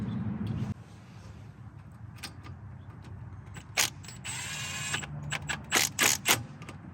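A hand ratchet tightens the ABS wheel speed sensor retention bolt on a 2013 Subaru Impreza, a handful of sharp close clicks coming in quick bursts after an earlier hum and light shop noise, with no talk.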